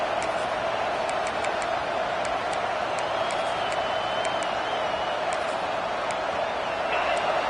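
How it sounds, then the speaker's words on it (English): Home stadium crowd in the NCAA 26 college football video game roars steadily and loudly throughout, a dense unbroken wall of noise with faint whistles and shouts poking through. "Man, this crowd really affecting the football game."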